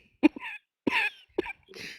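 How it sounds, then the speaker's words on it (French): Several sharp coughs close to the microphone, three or four quick bursts separated by brief pauses. "Excusez de tousser dans le micro."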